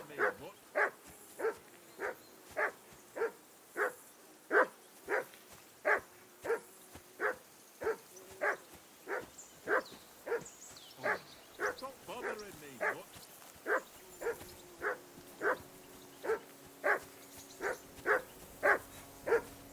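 A dog barks in Kingdom Come: Deliverance II, around two dozen evenly spaced woofs in a steady, insistent rhythm at moderate distance, with faint murmuring underneath.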